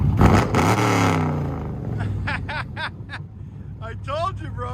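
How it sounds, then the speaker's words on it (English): A straight-piped Chevy Camaro SS fitted with headers revs loudly up close, a deep rumbling roar that swells and falls, while people talk and laugh over it. "Chevy Camaro SS is about to start it."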